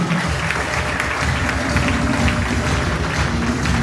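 A church congregation claps loudly and continuously in praise of God, a thick, close roar of many hands with a steady patter throughout and no clear speech over it.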